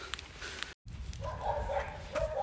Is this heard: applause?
no